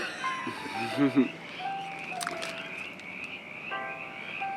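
A chorus of frogs croaking and trilling in the background, steady and fairly loud, with a person speaking briefly over it.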